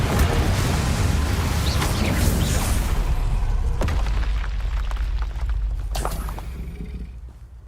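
Fire spell Incendio cast in Hogwarts Legacy on PS5, a loud sustained whooshing burst of flame that roars for several seconds and then gradually fades.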